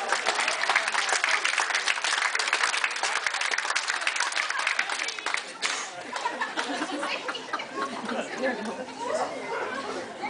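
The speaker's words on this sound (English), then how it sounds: "Let's give him another round of applause." Audience applause for a volunteer at a show in Cactus Petes Casino, dense steady clapping that thins slightly midway, with crowd chatter and a little laughter mixed in.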